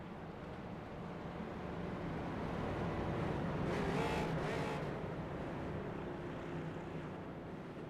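Race car engines drone around Charlotte Motor Speedway in iRacing, one car warming its tires ahead of a green-flag restart, a steady mid-level roar that swells as a car passes close around the middle, then fades back.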